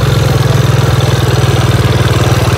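Motorcycle ridden off-road, its engine chugging in a steady pulsing low rhythm at close range, loud and alone with no voices.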